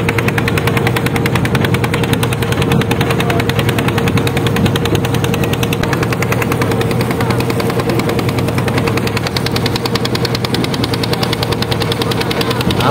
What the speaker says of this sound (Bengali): ট্রলার ছেড়ে দিয়েছি ইতিমধ্যে।